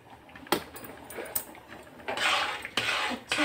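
Spoon scraping and knocking against a pan while stirring grated carrot and milk for gajar ka halwa, with a few sharp clinks and short scraping strokes, close and fairly quiet.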